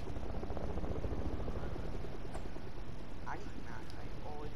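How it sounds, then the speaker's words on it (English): A helicopter approaches in the Fortnite video game, its steady low rotor thump rumbling continuously beneath voices talking over it. "A chopper's coming."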